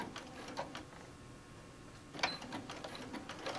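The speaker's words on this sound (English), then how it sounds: "All right, and we're going to sew all the way down" A sewing machine stitches down a zipper on a quilted iCases bag, its needle running in quick mechanical bursts with short pauses between runs, fairly faint and close with no talking.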